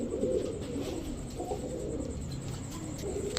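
A pair of Pakistani pigeons coos steadily at close range, the soft low warbling continuing without pause over faint background noise.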